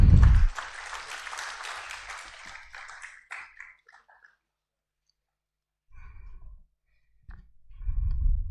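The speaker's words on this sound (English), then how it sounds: "I request big round of applause here." An audience at a national convention of insolvency professionals bursts into a dense round of applause for a publication release, loud at first, then thinning out over a few seconds before falling silent, followed by scattered faint noises.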